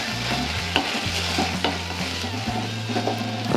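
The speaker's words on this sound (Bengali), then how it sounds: "এরপর এগুলিকে আমরা ভালো করে ফ্রাই করে নেব।" Tomato sauce and chili sauce fry in a pan for an egg snack, a close, continuous sizzle with a few sharp spoon scrapes and taps against the pan.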